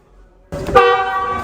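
An MG ZS Astor Blackstorm CVT's dual horn gives one close, loud honk that starts abruptly after a near-silent moment and holds as a steady, bright blare.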